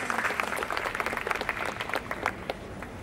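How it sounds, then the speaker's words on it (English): A hall audience at a school annual day scholarship presentation breaks into applause, many hands clapping in a lively, slightly uneven patter that stays fairly loud and close for the whole stretch, without voices on top. "A round of applause, please."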